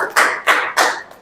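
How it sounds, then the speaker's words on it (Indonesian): A group clapping hands in unison on command during a Paskibra training session, three sharp, loud claps evenly spaced about a third of a second apart. "tepuk tangan."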